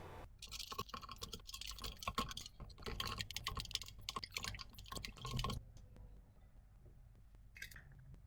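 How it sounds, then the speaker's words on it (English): A spoon stirs a tablespoon of sugar into a quarter cup of warm water, giving quick, close clinking and scraping taps against the container for several seconds before it settles into quiet. "add a tablespoon of sugar and stir it up until the sugar"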